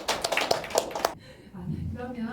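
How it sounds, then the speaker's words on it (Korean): Audience applause welcoming a speaker at a Korean academic forum: a burst of clapping from a seated crowd lasts about a second, then stops abruptly as a voice begins talking. "큰 박수로 맞이해주시기 바랍니다"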